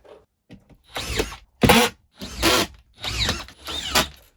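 A cordless drill drives screws into drywall over studs in five separate whirring bursts, close and loud, each ramping up and cutting off, with no talking.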